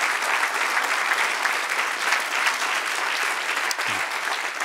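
Sustained applause from a church congregation at a nighttime service, steady and dense throughout with no pauses, ending in a brief low thump near the close.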